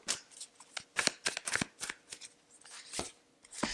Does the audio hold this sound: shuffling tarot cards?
yes